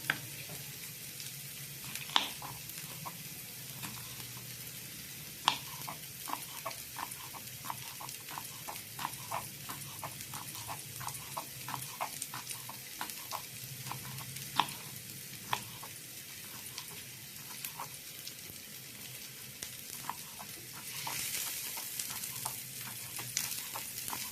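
Onion and capsicum sautéing in a pan for a lunch-box meal, a continuous close sizzle with frequent scraping stirs and ticking spatula taps, no voices.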